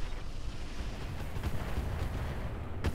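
Heavy mech weapons fire at a Warhammer mech in the Roguetech game: a dense, continuous low rumble of booming shots and impacts. It stays loud throughout, with a sharper burst near the end.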